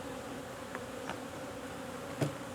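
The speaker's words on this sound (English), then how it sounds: "I will simply go frame by frame and shake the bees in" Honey bees buzz steadily as they are shaken frame by frame into a stacked hive body used as a shaker box, a continuous close hum with a few brief louder bumps and thuds.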